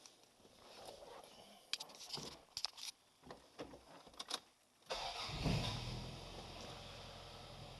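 A 1995 Toyota Celica GT with a swapped 3S-GTE turbo engine cranks over amid scattered clicks and knocks, then catches and settles into a steady, close idle.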